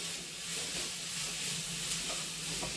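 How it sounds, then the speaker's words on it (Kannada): Vegetables frying in a pan for a veg roll give off a steady, soft sizzle and hiss, constant and fairly quiet throughout, with faint stirring underneath. "ನೋಡಿ ಇವಾಗ ಚೆನ್ನಾಗಿ ಫ್ರೈ ಆಗಿದೆ"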